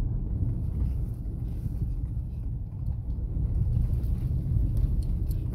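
A Ford Ranger pickup engine rumbles low and steady as it drives through a river in Iceland, with wind buffeting the microphone.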